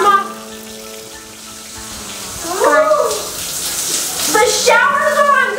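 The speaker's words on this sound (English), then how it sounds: "The shower's on, guys!" Shower and bathtub faucets run at full flow, a broad steady rush of splashing water that fills a bathroom, while voices talk excitedly over it.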